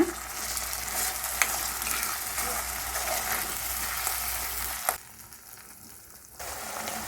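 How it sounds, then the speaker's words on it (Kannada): Tomato paste fries in a pan for bhindi gojju, a continuous close hiss and crackle with faint stirring, briefly interrupted by a knock before the sizzle quiets and then resumes. "ಹಸಿ ಸ್ಮೆಲ್ ಹೋಗೋ ತನಕ ಫ್ರೈ ಮಾಡ್ಕೊಳ್ಳೋಣ"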